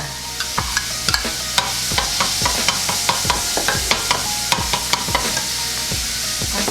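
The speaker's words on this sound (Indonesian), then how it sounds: "Habis ditumis, masukin Daging gilingnya" Ground meat sautés for mie bolognese in a hot pan, a dense continuous sizzle punctuated by regular sharp spatula taps and scrapes close by.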